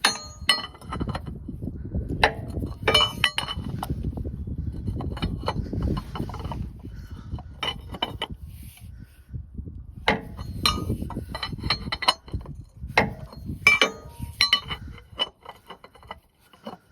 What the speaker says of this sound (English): So I'll screw it in hand tight and then I'll snug it up with the wrench